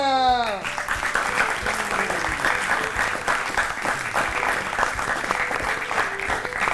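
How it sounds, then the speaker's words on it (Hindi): Children give loud, sustained applause in a school setting, a dense clapping that fills the whole stretch after a brief voice at the very start. "हो जाए जोरदार तालियां।"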